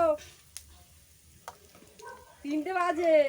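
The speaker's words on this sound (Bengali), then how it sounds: "এখানে হাঁসের মাংস রান্নার জন্য তেল গরম হচ্ছে" Oil heats and sizzles in a pan for cooking duck meat, a soft, low crackle with a few sharp clicks. People begin talking near the end, over the frying.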